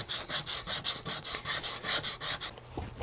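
Rhythmic rasping strokes of sandpaper or a file rubbing back and forth, rounding over a wooden guitar edge by hand, about a dozen even passes, close up, then stopping.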